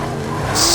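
A Ford F-450 pickup with 700 horsepower slides in Forza Horizon 5, giving a short, loud, close screech of tire skid over the engine.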